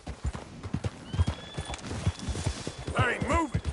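Horse hooves clip-clopping in the video game Red Dead Redemption 2, a steady close rhythm of hoofbeats with a whinny near the end while a voice talks over it.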